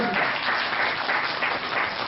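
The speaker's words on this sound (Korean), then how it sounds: "네, 박수 한번 주세요" Audience applause in a small theatre during a proposal event, a dense burst of clapping held at steady loudness for a couple of seconds.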